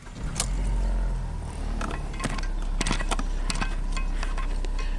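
A Ford Focus engine is started for an air-conditioning check, settling into a steady low idle hum with a few faint scrapes and clicks nearby, and no voices.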